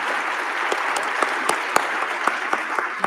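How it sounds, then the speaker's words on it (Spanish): Sustained applause from a seated audience at a panel on conciliation in labour disputes, a dense wash of clapping with a few sharper individual claps standing out, steady and fairly loud throughout. "Yo quisiera pedirles un aplauso para nuestros ponentes"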